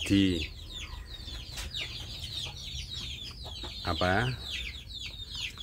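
Free-range village chickens cluck and squawk nearby in a loose, irregular chorus, with a louder call rising near the end and faint background noise between the calls.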